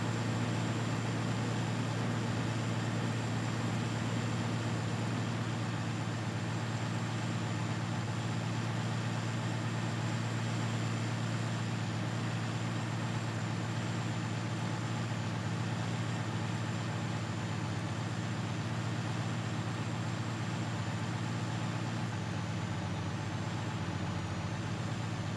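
Tractor engine in the Farming Simulator 19 video game drones steadily at low pitch, a quiet, unbroken hum with no other sounds over it.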